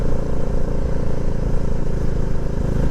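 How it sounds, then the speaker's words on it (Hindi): A motorcycle climbs a paved uphill road toward Chanderi fort, its engine a steady, loud low drone with a slight flutter that holds without breaks. "रोड पक्का है, तो बाइक आसानी से ऊपर चली जा रही है"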